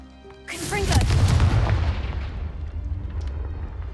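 A Confringo blasting spell in the video game Hogwarts Legacy detonates in one loud, close explosion whose deep boom then rumbles and fades over several seconds.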